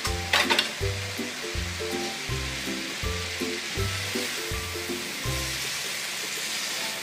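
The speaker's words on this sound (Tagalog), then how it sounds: "Lagay na rin po natin yung tofu. Yung pinilito natin tofu kanina." Tofu frying in a hot pan while vegetable lumpia is cooked, a loud steady sizzle with rhythmic scraping stirs repeating roughly every half second, close up and without talk.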